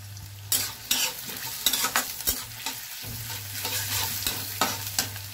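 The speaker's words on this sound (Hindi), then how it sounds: "इसके बाद हम डाल देंगे इसमें प्याज।" Chopped onions fry in oil over tempered spices for a papad sabji, with a close, steady sizzle broken by repeated scraping stir strokes and no talking.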